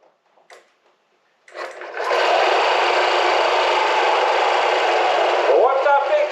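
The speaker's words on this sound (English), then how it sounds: "We got it started up, we got it running, and it actually sounds pretty decent" A junkyard Honda Ruckus scooter with a faulty intake manifold idling after being revived, a steady rattling buzz that starts after a few faint clicks and holds at an even level, close by.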